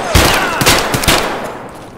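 Rapid AKM gunfire in the Escape From Tarkov video game, a loud burst of several close shots in the first second that fades into a ringing tail.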